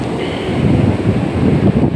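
Sea waves rush in at a beach near Addaripeta in a brief, loud wash of surf, heavily buffeted by wind on the microphone.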